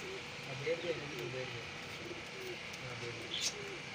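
Soft, low pigeon coos murmur on and off over steady outdoor background noise, with faint voices nearby, as pigeons land and circle at a low-flyer pigeon flying tournament.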